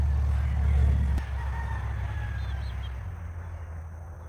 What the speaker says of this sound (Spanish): Ya cantó el gallito.